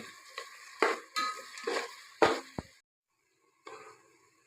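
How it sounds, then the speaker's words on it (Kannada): Chopped onions frying in oil for fenugreek-leaf pulao give soft, faint sizzles broken by intermittent stirring scrapes and utensil clinks, then a short pause before the sizzle resumes. "ಎಣ್ಣೆಲಿ ಚೆನ್ನಾಗಿ ಫ್ರೈ ಮಾಡ್ಕೊತೀನಿ ನಾನು"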